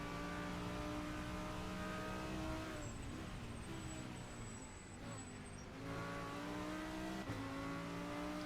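Race cars run laps in an endurance race at Palanga, including an Audi and the 73 Mantis Racing entry, with a steady loud engine drone and shifting revs as cars pass.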